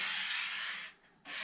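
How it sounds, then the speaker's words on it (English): Coarse 80 grit sandpaper rubs along the edge of a guitar neck binding and fretboard, a close, steady hissing scrape that briefly pauses before resuming. "So I've been sanding with this, which is definitely straightening out the little lumps and bumps"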